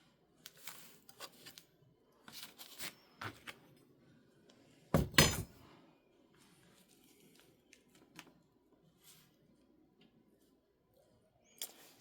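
Beeswax sheets being cut into pieces for rolled candles: sparse, quiet clicks and snips scattered over a hushed background, with one louder clattering burst partway through.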